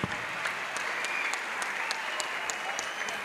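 A church congregation applauds the Lord Jesus at an evangelistic crusade, with sustained, even clapping from many hands running steadily throughout, close and dense, with voices mixed in.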